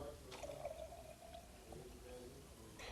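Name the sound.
pouring 200 cc of distilled water into a lab sample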